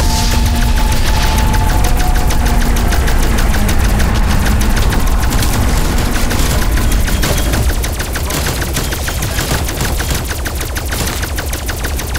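Sustained video-game gunfire roars through a boss fight, a dense continuous fusillade of rapid automatic shots with booming impacts, loud and unbroken and easing slightly in the last few seconds.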